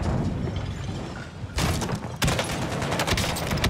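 The JAK-12 shotgun fires in a video game. A low rumbling ambience gives way to two sudden bursts of sharp, loud shots, each followed by rapid clattering reports.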